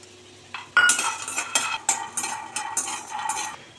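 Raw peanuts, about 100 grams, dry-roasting in a pan while being stirred, giving a run of close, rattling scrapes and light clinks in irregular bursts, with no voices.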